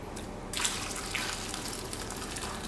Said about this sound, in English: It's the moment for the warm water